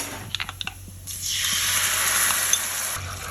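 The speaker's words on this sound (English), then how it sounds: "add in the prepared sauce" Sauce poured into hot oil with fried chopped garlic in a wok over high heat for a Singapore-style Pork Ribs King tze char dish, a sudden loud steady sizzle after a few light taps, close and alone.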